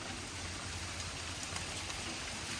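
Steady rain falling on a snowy winter day, a dense, even hiss of drops that stays fairly quiet and constant throughout, with no voices.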